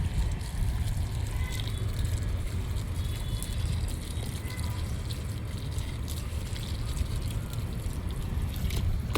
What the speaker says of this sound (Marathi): तर पाणी घालणं चालू आहे माझं.